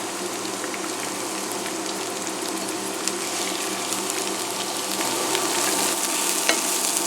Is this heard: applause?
no